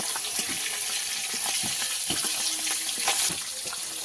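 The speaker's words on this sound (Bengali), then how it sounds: "একটু ভাজা হয়ে গেছে, উল্টে দেবো।" Fish frying in hot oil in a pan for a curry with potato and aubergine, a steady close sizzle with scattered crackles and pops throughout, no voices.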